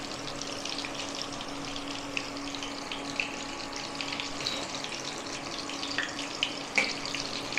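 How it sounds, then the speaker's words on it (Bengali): Topse fish pakora frying in oil on low heat, a soft continuous sizzle held close throughout, with faint occasional pops and light clinks. "এখানে আমি আঁচ কম করেই ভাজছি।"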